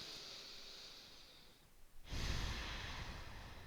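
A slow breath during a yoga stretch in a hamstring flexibility flow, a soft airy exhale fading to near silence, then a fuller, louder breath sound rising and holding steady, close to the mic with no talking.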